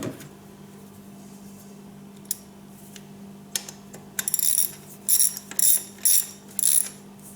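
A ratchet tightens a spark plug in a Jeep Compass engine. A few sparse, quiet clicks come first, then bursts of rapid, close, crisp ratcheting over a faint background hum.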